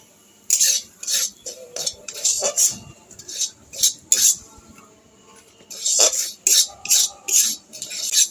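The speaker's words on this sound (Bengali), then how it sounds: "সুজিটা আমি কিছুক্ষণ নেড়ে নিয়েছি।" A spatula repeatedly scrapes and clinks against a wok as semolina is stirred in ghee, in short, irregular bursts separated by brief quiet gaps, heard close up.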